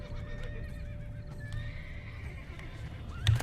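A horse in the video game The Witcher 3 gives a short neigh near the end of the stretch, over a low game ambience with faint clopping hooves and soft tonal music.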